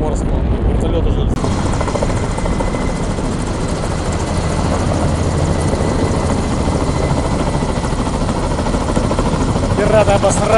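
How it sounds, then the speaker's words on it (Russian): A helicopter near a Russian naval convoy and anti-submarine ship, its rotor thumping and engine roaring continuously and loudly throughout, with voices talking under the noise. "Вертолет уже."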